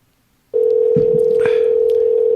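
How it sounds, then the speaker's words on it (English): A telephone tone sounds steadily at close range and loud, starting abruptly about half a second in and holding unbroken to the end, with brief voices and noise underneath it. "Is that his phone ringing?"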